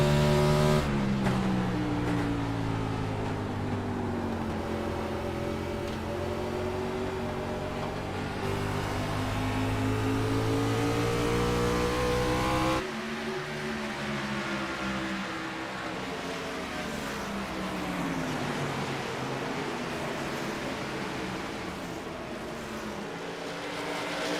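Race cars in an ISCA race at New Hampshire scream past in a continuous loud engine roar, pitch sweeping as they pass, then a sudden cut to another pack of cars droning on, no voices.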